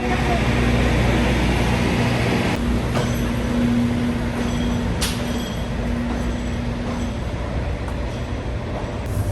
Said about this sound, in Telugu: this is the Peru rail train